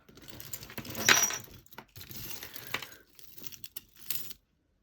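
Small pieces of broken thrifted craft jewellery, beads, pendants and bangles clink and rattle as they are sorted by hand, in several light bursts of close metallic and glassy clatter with short pauses between.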